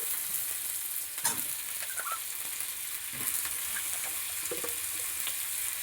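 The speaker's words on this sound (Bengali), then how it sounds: "পেঁয়াজটা ফোড়নের সাথে একটু ভেজে নেব এবার দিব টমেটো দুটো কাঁচা লঙ্কা এবার দেব আলু" Onion, tomatoes, green chillies and potato fry in tempered oil for a fish curry, giving a steady close sizzle with a few soft stirring scrapes and no speech.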